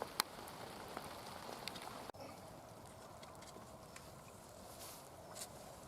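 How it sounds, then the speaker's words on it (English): Light rain falls steadily over an allotment vegetable plot, a faint, even patter with scattered soft drop ticks and no voices. "the rain has not got in the way. It's very light at the moment"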